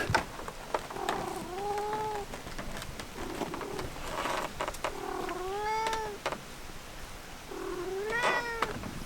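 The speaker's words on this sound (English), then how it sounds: "See the cat's on the roof." A cat up on a roof meows repeatedly in drawn-out, rising and falling calls, with a few clear meows spaced across several seconds, close and fairly loud over light outdoor background noise.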